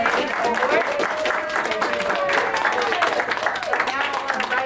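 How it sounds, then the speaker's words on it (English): An audience applauds graduates at the Equity Pathways graduation ceremony, sustained close clapping from many hands with voices mixed in beneath it. "Can you give another round of applause for our graduating award?"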